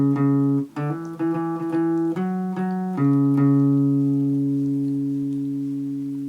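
Plucked guitar picks out the opening of a song from Fallout New Vegas, with a few clear notes repeated in pairs and then a long ringing note that slowly fades. The playing is close and loud, with no voice.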